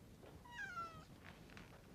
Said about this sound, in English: I had a distinct impression I heard a cat mewing, either in this room or very close at hand